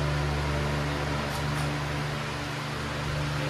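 A Harbor Breeze Marina Cove II 18-inch wall fan runs with oscillation switched on, giving a constant, close airy hum with a low motor drone and no other sounds.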